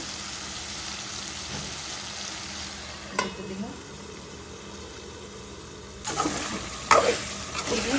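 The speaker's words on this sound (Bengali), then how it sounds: "একটু ভেজে দিব।" Potato and eggplant fry in oil for a hilsa fish curry, giving a quiet, steady sizzle with a few louder bursts of stirring and clattering toward the end.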